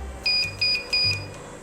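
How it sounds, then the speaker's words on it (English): Three loud electronic beeps in a steady rhythm, each a high-pitched tone lasting about a fifth of a second, with short gaps between them. "when you hear it beeping, it's actually detecting the arc"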